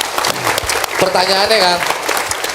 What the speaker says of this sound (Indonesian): Boleh tepuk tangan buat Kang Deddy.